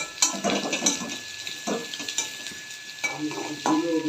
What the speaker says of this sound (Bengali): এবার একটু লাল লাল করে ভাজা হবে